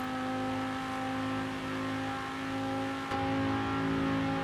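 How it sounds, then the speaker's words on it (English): Car engine in the racing game Forza Horizon 4 holds a steady, loud drone at sustained revs, then steps up sharply in pitch and volume partway through as the throttle opens, with no voices. "Enjoy the engine sound."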